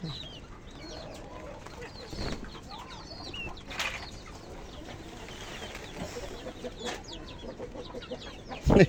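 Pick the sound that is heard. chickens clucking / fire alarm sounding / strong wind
chickens clucking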